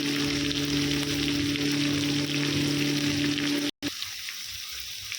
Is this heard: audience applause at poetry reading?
no